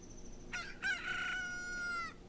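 A cucco chicken crows in the video game Ocarina of Time, a single clear cock-a-doodle-doo with a short cluck before it, close and alone.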